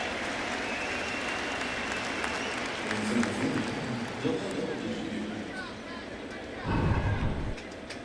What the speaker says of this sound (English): They give him a nice warm hand.